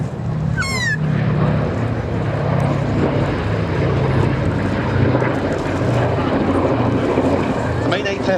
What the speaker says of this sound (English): Sally B here, a late model B-17G, a true flying fortress indeed.